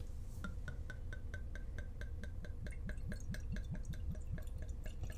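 A thick drink is poured from a bottle into glasses, giving a steady run of regular glugging drips and soft liquid splashes throughout, close by and moderately loud.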